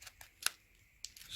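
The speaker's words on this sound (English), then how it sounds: "Yep, so I say we cut this guy open," Crisp metallic snipping while a Union Sangyo C562 oil filter is cut open: two or three sharp, close cuts spaced apart by short pauses, with no voices.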